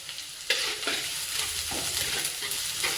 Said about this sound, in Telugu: సో ఉల్లిపాయలు వేసాక ఇలా వేగుతూ ఉండగానే పెసరపప్పు, కరివేపాకు.